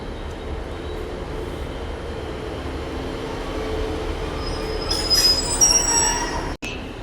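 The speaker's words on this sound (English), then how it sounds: "coming in now will be a Great Eastern Railway service to Exmouth" A Class 150 diesel passenger train pulls into Exeter Central station, its engine rumbling steadily and building as it arrives, with high wheel squeals near the end and a brief cutout.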